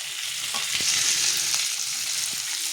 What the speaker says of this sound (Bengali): এবার দিয়ে দেবো আমি পেঁয়াজটা, এগুলো আমি একটু হালকা ভেজে নেবো। আর দিয়ে দেবো কাঁচা লঙ্কাটা।